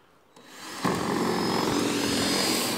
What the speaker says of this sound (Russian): Все, крепим на 3 самореза.